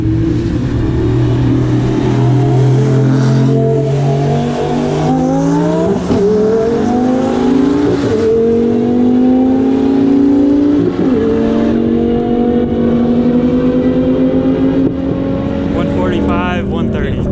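A boosted 1300 hp Ford Mustang drag car runs hard down the strip, a loud continuous engine roar rising steadily in pitch through the gears, with brief shifts and boost whooshes heard close to the microphone.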